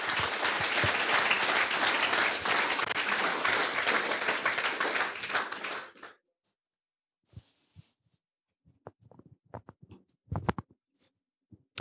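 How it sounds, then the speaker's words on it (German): Audience applause for a youth hackathon project group, a dense sustained crowd clapping for about six seconds that cuts off abruptly, followed by scattered faint knocks and handling noises in a quiet room. "Einen herzlichen Applaus."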